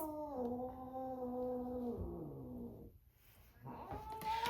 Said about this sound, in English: My cats are getting in on it.